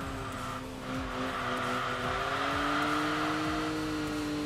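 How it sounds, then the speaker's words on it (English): A four-wheel-drive car in the Enthusia Professional Racing video game slides on all four wheels across an uphill cobbled section, its engine droning steadily and loudly while the tyres scrub and squeal underneath. "do a little bit of a four-wheel slide on the cobble section"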